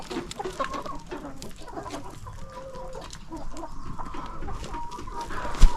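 Chickens cluck steadily inside a poultry house during a morning inspection, a dense overlapping flock chatter with scattered sharper calls, moderately loud throughout and peaking briefly at the end.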